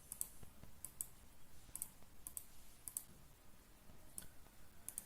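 Computer mouse clicks while navigating an Excel calendar, a run of faint, crisp ticks spaced unevenly about half a second apart over low background hiss.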